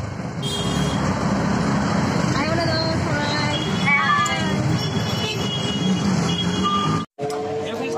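A crowded commuter train in motion, with a loud continuous rumble and rattle close by, chattering passengers throughout and a brief dropout near the end.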